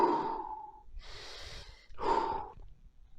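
Deep breathing close to the mic: a long breath out, then a noisy breath in, then another long exhale, with no speech.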